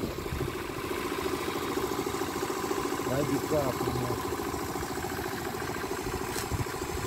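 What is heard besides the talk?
Aprilia Scarabeo 100cc scooter engine idling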